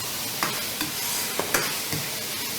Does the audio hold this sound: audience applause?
no